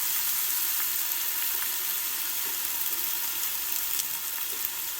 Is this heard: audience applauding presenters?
no